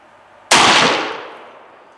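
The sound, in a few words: 308 Win rifle firing German plastic training ammo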